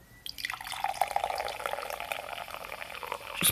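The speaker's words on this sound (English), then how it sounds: "I will try and pour this out into the glass on camera." Relentless Passion Punch energy drink poured from a can into a glass, a short fizzing, splashing trickle of liquid filling the glass, close and fairly quiet, with no talk.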